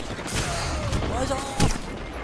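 Gunfire in a Destiny 2 PvP match using the Prometheus Lens, heard as a dense, steady stream of shots with a heavier burst near the end, under game sounds and some voice.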